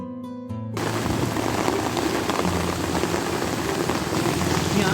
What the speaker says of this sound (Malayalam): അത്രമാത്രം കാറ്റും മഴയും തന്നെ.